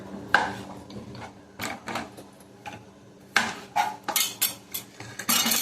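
Bottle gourd being cut for sambar, with a series of sharp, irregular knife chops and clatters against a cutting board, close and fairly loud, arriving in clusters with short pauses between them.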